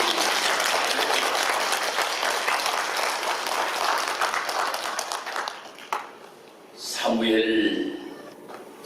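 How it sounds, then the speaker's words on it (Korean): A church congregation applauds at a Sunday worship service, with loud, dense clapping for several seconds that fades out, followed by a voice speaking. "하나님의 영광의 박수 한번"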